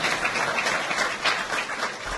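Applause at a university football press conference: a steady burst of many hands clapping from a room audience, fairly loud and sustained across the whole moment without speech.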